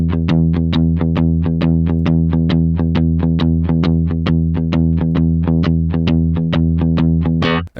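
Distorted electric guitar chugs a steady stream of evenly spaced, picked root notes in a triplet rhythm, loud and upfront with no voices, cutting off abruptly at the end.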